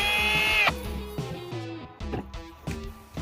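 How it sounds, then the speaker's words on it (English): A power drill drilling through metal to remove a broken MIG tip from a diffuser whines at a high pitch, then drops into lower grinding and varying motor tones with uneven pressure, close up. "drill using medium slow speed and medium light pressure"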